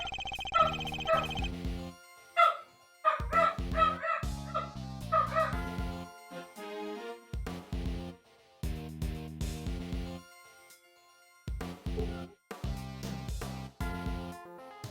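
Dogs bark and yip in short bursts in the Ace Attorney Investigations video game, mixed with synthesized game tones and brief pauses between barks.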